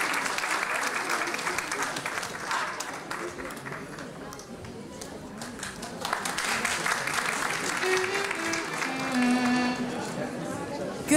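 Audience applause ringing through a hall at a Turkish classical music choir concert, a steady mass of clapping that holds and swells slightly toward the end, with voices talking over it.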